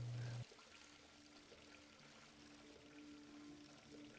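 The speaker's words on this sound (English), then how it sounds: "Fountain is now fountaining." A fountain in Tomb Raider Anniversary pours water in a steady, quiet stream, beginning after a brief louder burst and continuing unbroken with no speech over it.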